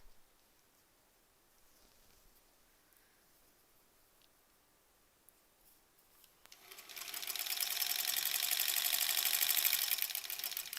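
A sewing machine stitching through the thick seams of a quilt block, near and loud. A long quiet lull gives way to a steady, fast mechanical whir that runs continuously to the end.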